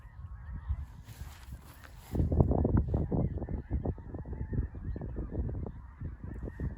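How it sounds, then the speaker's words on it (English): A large flock of geese honking continuously outdoors, a dense chorus of overlapping calls that grows louder after a couple of seconds. "You hear the geese."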